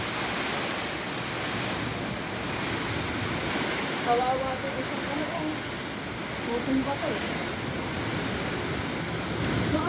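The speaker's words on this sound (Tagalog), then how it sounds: "lakas ng hangin." Strong wind after Typhoon Opong rushes steadily through a string bean garden in a broad roaring hiss, buffeting the microphone, while a person speaks briefly underneath.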